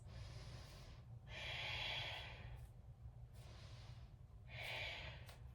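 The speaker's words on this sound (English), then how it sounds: "For 3 deep breaths." Slow, deep breaths during a standing yoga balance, two long airy exhales swelling and fading over a low steady background hum, close and quiet with no talking.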